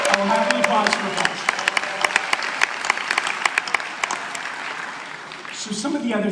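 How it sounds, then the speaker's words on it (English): Audience at a leadership event applauding, with a crowd of hands clapping and sharp individual claps standing out, fading slightly before a voice resumes at the end. "I will happily pause for applause."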